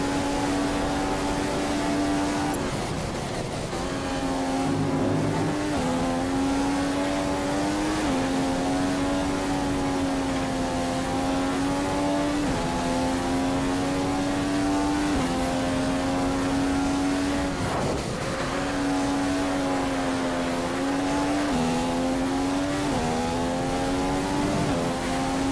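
Ferrari Formula 1 engine on a qualifying lap in F1 2015, a loud, continuous high-pitched whine that climbs through the revs, with brief dips at gear changes and braking, heard alone.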